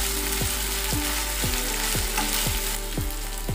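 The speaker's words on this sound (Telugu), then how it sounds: "ఉల్లిపాయ ముక్కలు, కరివేపాకును వేసి దోరగా వేయించుకోవాలి." Onion pieces, curry leaves and ginger paste frying in a pan with a steady sizzle, a spoon scraping and stirring in a regular rhythm roughly every half second, close and continuous with no talking.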